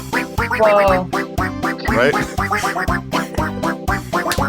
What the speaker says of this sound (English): if someone had the duck sounds on their keyboard